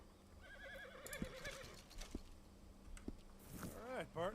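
A horse in the video game Red Dead Redemption 2 gives a clear whinny with hoof clip-clops, then a second neigh near the end, with speech around it.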